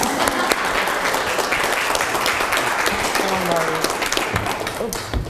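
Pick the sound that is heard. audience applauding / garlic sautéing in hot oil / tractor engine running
audience applauding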